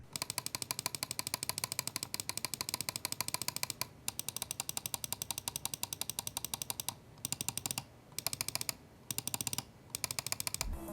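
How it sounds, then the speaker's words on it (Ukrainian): The Endgame Gear XM2we wireless mouse, with Kailh GO 80-million-click switches, clicks rapidly and evenly, making crisp, close, sharp taps in long continuous runs broken by several short pauses, with no talk. "клік дуже гарний, перемикачі Kail Go на 80 мільйонів натискань"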